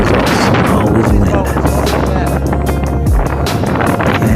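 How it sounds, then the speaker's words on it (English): Strong wind roars steadily on a mountain top, buffeting the microphone with loud, continuous rumbling gusts and no pauses. "Always windy here, even when it's very calm."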